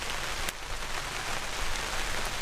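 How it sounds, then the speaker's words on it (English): Steady rain pattering at a cold-weather campsite during truck camping, a dense continuous hiss of drops on surfaces with one brief sharper tap, no voices. "Until it started raining."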